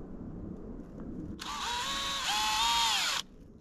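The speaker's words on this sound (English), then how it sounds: "drill it through the wood" After a quiet start, a power drill driving a screw into wood from whole tree logs whirs for about two seconds, its pitch dropping slightly as it bites in, then stops abruptly; close and fairly loud.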